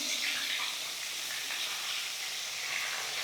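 Pieces of snakehead fish frying in a pan, a dense, steady hiss of sizzling oil at close range, constant and unbroken throughout.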